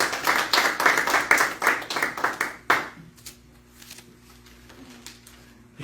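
A church congregation claps for about three seconds in quick, rhythmic bursts, loud and close. Then the clapping stops abruptly, leaving a low steady hum.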